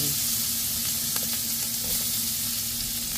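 Mushrooms sizzle in butter in a pan with white onion, a dense, constant close frying hiss with a few faint scrapes of stirring.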